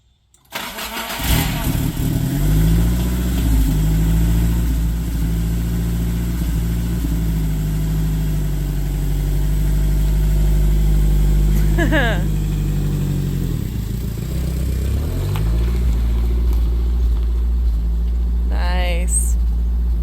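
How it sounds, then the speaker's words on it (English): Nissan S12 car engine cranks and starts, then idles loudly and steadily close by, revving as the car pulls away a short distance; voices talk over it. "So we are going to start the car and drive it about a car length away."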